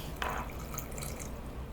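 Water pours into a saucepan holding sugar and corn syrup for peanut brittle, a short steady splashing and trickling that stays moderately quiet and close.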